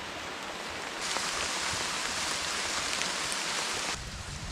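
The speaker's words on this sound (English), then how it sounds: "She's raining pretty good." Steady rain falls in a snowy spruce forest, a dense even hiss that swells louder for about three seconds before easing back to a softer patter, with no voices.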